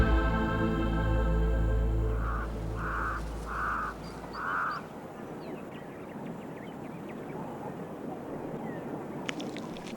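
Four evenly spaced caws from a crow ring out over a droning engine-like rumble that fades, followed by wind and open-air ambience in the wild, moderately near and without talk.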